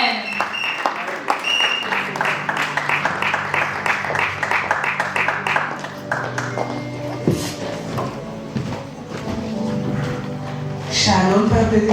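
A church congregation at Rehoboth Paris claps and cheers, with rhythmic hand claps building over several seconds, music and voices mixed in, and louder cheering swelling near the end.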